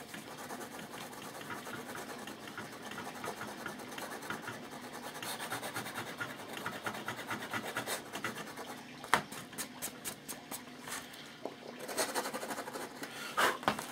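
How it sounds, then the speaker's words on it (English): A small handheld power sander works on a Phoenix Models Sukhoi Su-31 model airplane, giving off a fairly quiet, steady buzzing rasp. Short scraping bursts follow near the end of the run. "I'm going to take a little sander and get the rest of that loose right here"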